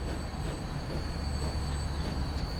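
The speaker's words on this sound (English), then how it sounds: "Road locomotive." A road locomotive rolls along in the Transport Fever 2 game, a continuous rumbling engine and wheel drone with a thin high whine over it, steady and moderately loud.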